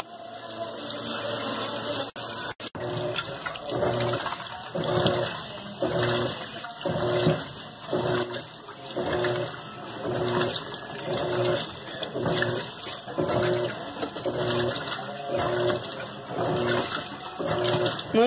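An Electrolux LT15F washing machine releases fabric softener water during its rinse, giving a steady rush of flowing water with a pulsing, rhythmic churn underneath. It is continuous and close, with no voices.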